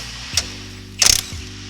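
A ratchet cracks loose a 14 mm bolt on a Honda Rebel 1100 motorcycle during crash guard installation, giving a short click, a quiet gap, then a loud burst of rapid pawl clicks, close and with no talking.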